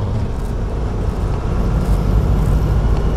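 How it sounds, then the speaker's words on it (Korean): A car engine drones steadily and loudly as the accelerator is pressed gently and then harder during a Korean class 1 driving licence test, the rumble building slightly toward the end with no talk. "자, 이제 엑셀 살짝씩 밟고 좀 더 밟을게요."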